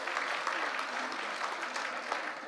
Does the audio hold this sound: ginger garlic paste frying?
no